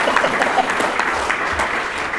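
A school seminar audience claps in a dense, steady burst of applause lasting the whole short moment.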